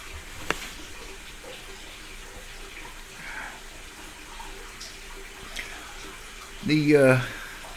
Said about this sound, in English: It's gonna flood in there if we don't go in there and turn it off.